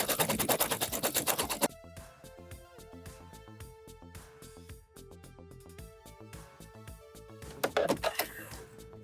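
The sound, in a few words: sewing machine stitching heavy fabric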